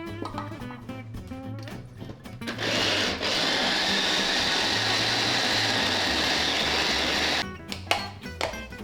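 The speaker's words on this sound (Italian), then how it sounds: "E incominciamo a frullare." A kitchen blender whirs steadily for several seconds, loud and close, purée-ing an eggplant pesto with lemon zest, with brief clattering before and after the run.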